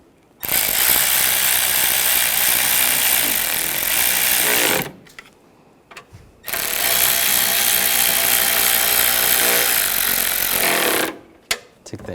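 A pneumatic impact tool tightens bolts on a coolant reservoir mount on a 2013-2016 Dodge Dart 2.4L, firing in two loud, sustained rattling bursts of several seconds each with a short pause between them.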